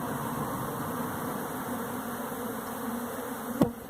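A swarm of honeybees buzzes near a new hive during a cutout, a dense steady drone close by throughout with one sharp brief knock near the end.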